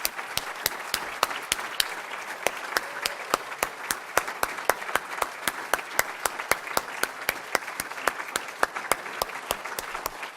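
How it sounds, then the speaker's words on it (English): A fundraiser audience for a social justice fund gives a steady standing ovation, a dense even stream of hand claps lasting throughout, with no talking over it. "Please join me in a standing round of applause for this social justice dream"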